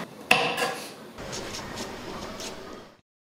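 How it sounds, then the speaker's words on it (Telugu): A knife chops green chillies on a kitchen cutting board for a traditional Telugu dish: one sharp, loud knock, then softer, faint taps and board noise that fade after about three seconds. "ఇప్పుడు పచ్చిమిర్చి కట్ చేసుకుందాం"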